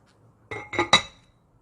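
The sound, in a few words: lid put on cooking pot of doenjang jjigae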